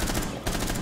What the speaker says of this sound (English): Oh, I shot the hostage.